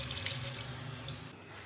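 Water and soaked masoor dal being poured from a container into a kitchen wok, a steady close splashing pour running throughout with no talking.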